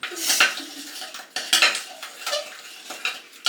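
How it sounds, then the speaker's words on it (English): Butter and sugar being creamed by hand in a bowl, a series of close, irregular scraping and clinking strokes of a utensil against the bowl, with no talking. "I'm sure it's not this hard to cream butter and sugar."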